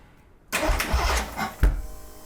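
A Ford Shogun build's car engine cranks and sputters to life for the first time after a quiet moment, turning over roughly with a sharp catch near the end.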